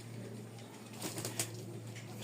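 Soft, low cooing from a Lotan pigeon kept in a coop, faint and close against a steady background hum, with a brief rustle partway through.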